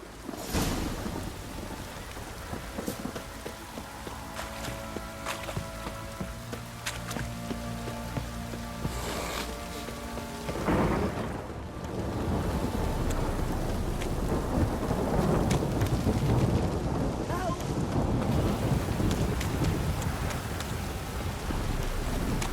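Heavy rain pours down in The Witcher 3 as thunder rumbles and cracks during a storm, starting as a steady hiss, then swelling into a louder, denser downpour with deep rolling booms.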